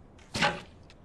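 An arrow leaves a bowstring with a single sharp, brief twang-and-whoosh, close and clean with nothing else around it.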